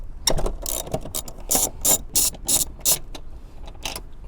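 A hand ratchet clicks in quick bursts while undoing star-pattern bolts on a Lexus seat. Several close, loud, rapid runs of clicking come with brief pauses between them, and no voice is heard.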